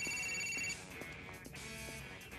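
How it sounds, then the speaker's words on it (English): A telephone rings inside Grand Theft Auto 4, a steady electronic trill that continues briefly while faint game sounds play underneath. "The phone's ringing."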